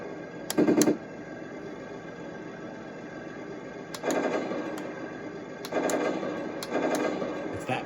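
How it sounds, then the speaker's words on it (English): Machine gun sound effect from a Heng Long M1A2 Abrams RC tank, played through its small onboard speaker in several short rattling bursts of roughly half a second to a second each, separated by pauses, moderately loud over a steady background hum. "Oh, you can change to the other machine gun sound."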